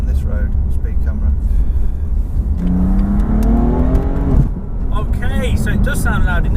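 Heard from the back seat of a 2017 BMW M4 CS, the engine revs loudly, rising in pitch through a sustained climb before dropping off, with road roar throughout and people talking over it.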